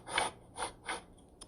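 A toy box lid played back as a recorded sound effect: three rasping scrapes in a row, then a fainter short one and a small tap, close and dry with no voices.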